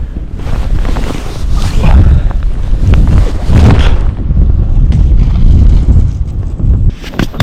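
Strong gusts of wind roar against the microphone in heavy, rumbling waves, loud and continuous for the whole stretch, while winter spin fishing.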